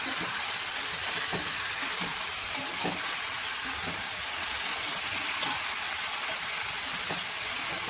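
Okra tipped into a pan of mixed vegetables already frying for a vegetarian Bengali drumstick-and-okra chorchori, giving a steady close sizzle with a few sharp clatters and stirring knocks along the way.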